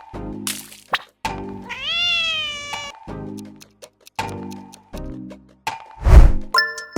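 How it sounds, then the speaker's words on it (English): A cat meows several times, loud and close, with short gaps between the cries, one drawn-out wavering call and a brief clattering noise near the end. "It's cat meowing."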